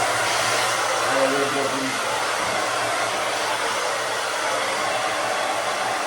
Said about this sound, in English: and then now the hair dryer